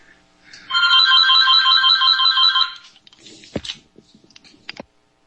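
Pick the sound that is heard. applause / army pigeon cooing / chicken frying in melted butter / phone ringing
phone ringing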